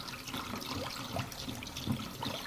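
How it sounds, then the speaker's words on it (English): Isopropyl alcohol being stirred into a homemade Dettol mixture, a soft continuous liquid swishing and sloshing close by, fairly quiet, with no talk over it. "and you mix while stirring"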